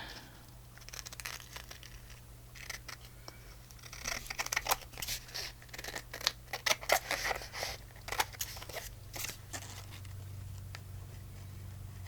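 Scissors cutting out paper Christmas ephemera, with quick snips and crinkling paper rustles clustered mid-clip, close and fairly quiet with no talking.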